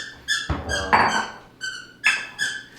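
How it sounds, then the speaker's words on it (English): A dog's squeaky toy squeaking close by in a series of sharp, high squeaks, some in quick pairs, with soft rustling between them. "Not everybody wants to listen to a squeaker when they watch the YouTube video."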